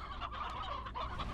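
Chickens in the Slime Rancher video game cluck and honk in short, repeated, nasal bursts. The calls are faint, with no talking over them.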